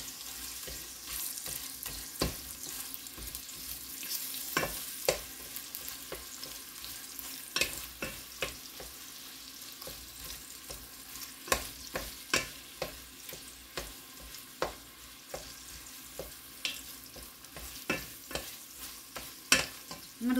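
Ground beef sizzles steadily in a Dutch oven while a utensil stirs and scrapes it, giving scattered sharp clicks and knocks over a constant close frying hiss, with no talking.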